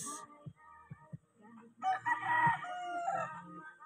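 A pure Boston Millionaire gamefowl rooster on a breeding farm gives a single clear crow in the latter half, fairly near. A few soft clucks and low bumps come before it, with no talk.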